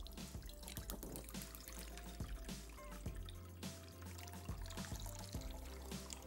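Water is poured into a pan to be heated in a home kitchen, a faint, close trickle with small drips and splashes, no voices.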